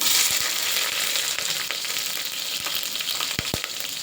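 Green chillies fry in two spoons of ghee with fennel and whole spices for egg biryani, producing a loud, continuous close sizzle broken by a few sharp spoon-against-pan knocks.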